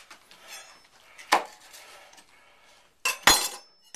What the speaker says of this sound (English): Spoon in the mixture.